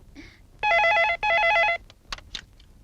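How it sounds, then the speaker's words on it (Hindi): An old-style telephone bell rings in two loud, rapid trilling bursts indoors, followed by faint clicks and handling sounds. "एंथोनी साहब का फोन है।"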